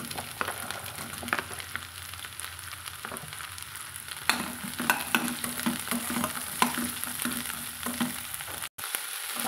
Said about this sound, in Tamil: நம்ம வெட்டி வச்சுக்கிற முருங்காயும் சேர்த்து இதோடவே வதக்கலாங்க.